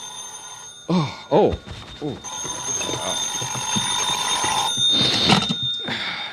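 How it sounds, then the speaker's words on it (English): A telephone rings in the morning in an old radio drama, with repeated bright bell trills that are loud and close. A voice briefly reacts before and between the rings. "my phone rang the next morning"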